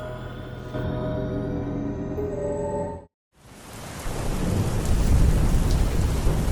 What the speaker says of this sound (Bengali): আজ সারাদিন ধরে মুষলধারে বৃষ্টি হচ্ছে।